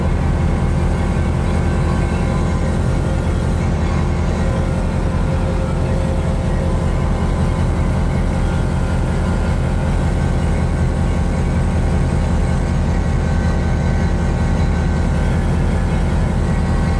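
A Pipistrel Sinus motorglider's engine drones loud and steady at takeoff from runway 17 at Sebring, a dense continuous roar that stays constant throughout with no pauses.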